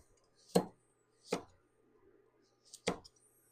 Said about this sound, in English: Now I'm going to cut them in 1/8-inch pieces.